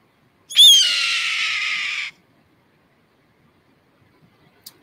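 A red-tailed hawk gives a single loud, harsh descending scream lasting about a second and a half, close and clear, followed by near silence.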